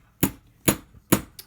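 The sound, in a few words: hammer striking to make marks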